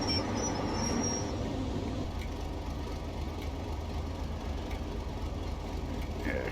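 A Class 31 diesel freight train in Train Simulator Classic on the Perth to Dundee route idles at a halt, giving a steady low engine rumble with faint rail ambience throughout.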